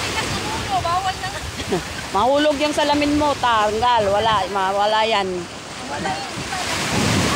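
Rough sea churns off Boracay during a storm, with surf and gusting wind buffeting the microphone. A person talks loudly over the crashing water throughout.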